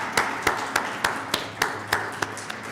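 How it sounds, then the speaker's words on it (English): Congregation at a Sunday service clapping in place of singing for a birthday, a slow steady rhythmic clap about three per second, clear and fairly close with a faint murmur beneath. "the best thing we can do to celebrate someone's birthday right now is just applaud"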